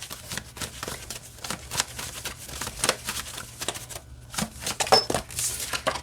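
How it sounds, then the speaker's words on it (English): Oracle cards from The Scythian Oracle deck being shuffled by hand, a steady run of soft papery riffles and flicks close up with no talking. "And it shuffles fine this way too."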